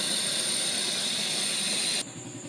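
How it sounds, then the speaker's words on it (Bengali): Mustard oil poured into a hot wok gives a loud, steady hiss and sizzle. It drops abruptly to a quieter fizz near the end, with no talking. "কড়াইয়ের মধ্যে দিচ্ছি আমি সর্ষের তেল"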